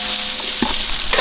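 Shallots and onions fry in hot oil with a steady, loud, close sizzle and a brief stir midway.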